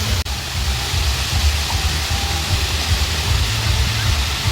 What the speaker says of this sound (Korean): 조금만 걸어가면 폭포도 있어요. 물소리가 정말 좋죠?